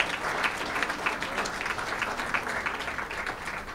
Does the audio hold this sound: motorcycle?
no